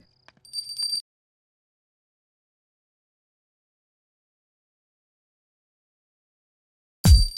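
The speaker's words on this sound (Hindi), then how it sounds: "श्यामला, क्या घंटी फिर से बजाऊं?" A prayer bell rings once during a Hindu puja, a short bright metallic chime that fades within a second. Long silence follows, ending in a dull low thud.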